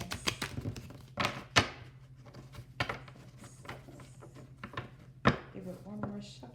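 A tarot card deck being shuffled by hand: scattered soft thumps and brief riffling bursts at close range, quiet overall, with a faint steady hum underneath and a voice talking now and then.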